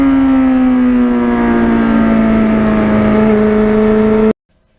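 A 1991 Yamaha FZR 1000 motorcycle engine holds a loud, steady high-revving drone with a slowly falling pitch for about four seconds, then cuts off abruptly into silence.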